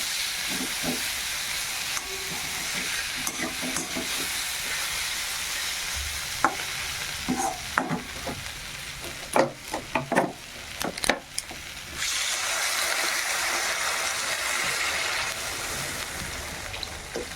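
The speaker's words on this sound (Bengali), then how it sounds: "এই যে কষানো হয়ে গেছে তরকারিটা এবার আমি জল দিয়ে দেবো" Water goes into a sautéed egg-omelette curry in a hot pan. A constant frying hiss is broken by sharp crackles and spits, then a fuller, louder steaming hiss settles in.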